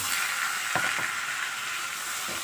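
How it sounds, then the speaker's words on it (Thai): Crushed garlic frying in hot oil in a wok, a dense, steady hiss of sizzling with a few faint scraping stirs, close and continuous throughout. "แล้วก็เอาน้ำมันลงนะครับน้ำมันลง เอากระเทียมลง"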